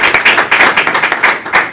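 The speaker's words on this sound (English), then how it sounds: "Big round of applause." Loud, close applause from a conference audience at an event on Latinos, the Voting Rights Act and political engagement, with dense overlapping claps in a steady rhythm throughout.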